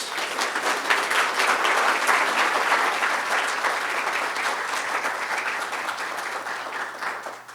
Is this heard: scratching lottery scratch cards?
no